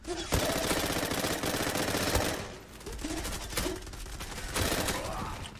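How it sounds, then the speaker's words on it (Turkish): Uzi submachine gun bursts in the online shooter Zula, sustained rapid automatic fire rattling through most of the stretch, pausing briefly near the middle before another volley, loud and close with no talk over it. "Uzi ile saldırıyoruz."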